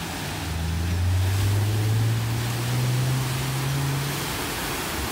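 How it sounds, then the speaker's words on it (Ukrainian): Ocean waves at Santa Cruz, California, make a continuous broad roar with a low hum beneath it, steady and moderately loud, with no voices. "Так, ось такий він океан."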